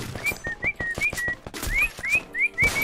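A person whistles a rapid run of short rising notes, close and clear, over dense gunfire and action sounds from a Free Fire match.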